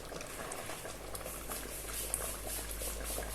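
Couscous broth with a little tomato paste simmers in a pot, a close, steady bubbling with soft pops and patter throughout.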